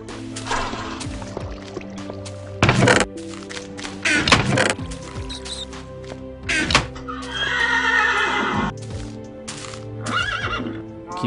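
Minecraft horse sounds from the video game: several loud whinnies and neighs with clip-clop hoofbeats, close and clear, with no talking.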